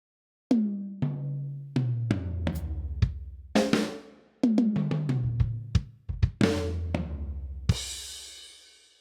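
Drum toms struck one at a time and in quick runs, each hit ringing out with a long, booming sustain before the next; a cymbal crash near the end.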